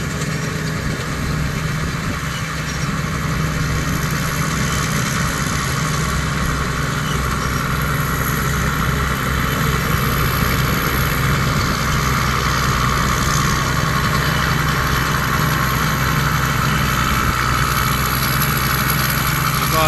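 Engine of a rice harvester working through thick rice in a field on uneven ground keeps up a loud, steady, continuous drone for about twenty seconds, with no talk.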